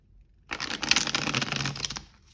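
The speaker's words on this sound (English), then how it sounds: "the best riffle shuffle" Scapini's Shakespeare Tarot cards being riffle shuffled, one close, brisk flurry of rapid paper flutter lasting about a second and a half, alone without talk.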